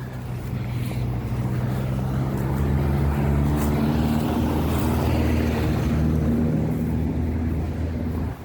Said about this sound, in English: There's a car coming up now